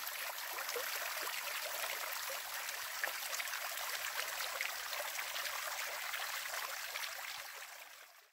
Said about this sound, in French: Une petite cascade.